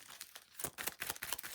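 Playing cards shuffled by hand at a tabletop for the Four Against Darkness board game, a quiet, close burst of rapid riffling flutters that grows busier in the second half.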